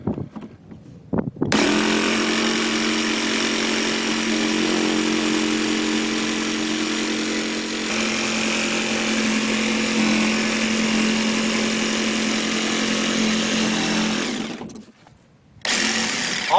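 Electric jigsaw sawing through wood while building a van floor, a steady loud whining buzz that runs continuously for about thirteen seconds, briefly cuts out near the end, then starts again.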